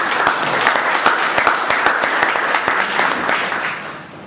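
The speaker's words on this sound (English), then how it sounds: "So please give Prakash a big round of applause." Audience applause for a member being thanked at a gathering, a close, lively round of clapping with distinct individual hand claps standing out, fading slightly at the end.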